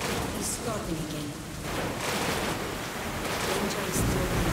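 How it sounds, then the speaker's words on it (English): Heavy rain pours nonstop during a thunderstorm in the video game Metro: Last Light, a dense, close wash of noise with deep thunder swelling beneath it. "Storm. Yes, the storm. He's starting again."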